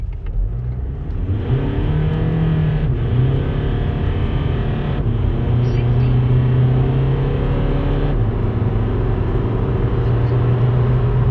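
Tuned common-rail TDI diesel car accelerating hard in sport mode, a loud, steady engine drone that rises in pitch through several gear changes, heard from inside the cabin.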